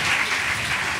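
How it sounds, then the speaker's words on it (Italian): Dense, steady clapping from a live audience at a podcast show, a continuous wash of many hands with no voices on top. "Fate un grande applauso a Carmelo Avanzato, signori."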